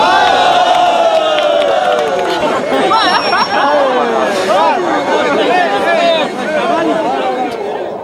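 An airshow crowd cheering and shouting excitedly after a Su-27 fighter display, many overlapping voices whooping loudly and continuously.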